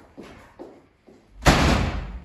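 Several soft knocks or bumps lead into a loud, close door slam that booms and rings out as it fades.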